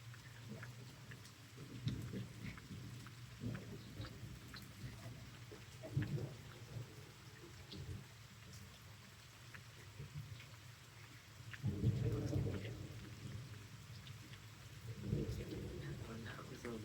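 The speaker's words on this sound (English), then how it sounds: "So it kind of feels like just like a lazy summer storm." A warm, windless summer-style thunderstorm in Missouri: steady rain patters under low rolling rumbles of thunder that swell and fade several times, fairly faint and distant.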